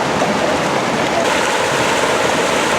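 A river stream rushes at Lake Tahoe, its water loud, close and unbroken. The dense churning roar holds steady for the whole stretch, with no voices over it.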